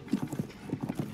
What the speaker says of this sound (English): I think I got a decent horse, actually.